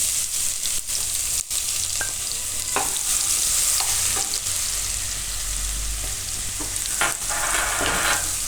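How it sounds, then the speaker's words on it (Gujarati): Cumin seeds and garlic frying in hot oil in a home kitchen for a Gujarati chili-potato curry, a steady close sizzle with a few soft stirring clinks and scrapes throughout. "તો તેલ આપણું ગરમ થઈ ગયું છે, એમાં આપણે જીરું નાખીશું"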